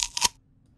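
Crunchy apple foley for a stabbing sound: a close, crisp double crunch of apple flesh being bitten or broken, lasting a fraction of a second before falling silent, with no talk.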